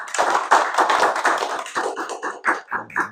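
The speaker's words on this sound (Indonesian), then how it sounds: "Tepuk tangan buat kelompok 2." Brief applause for a student group in a classroom, loose uneven claps from a small number of people, fairly close, tapering into scattered claps at the end.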